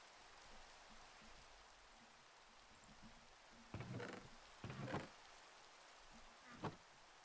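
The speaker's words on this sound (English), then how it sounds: "this rain is really starting to tick me off." Steady rain falls in the Minecraft video game, a continuous soft hiss across the whole stretch, with a few louder crackling bursts breaking through and no voices.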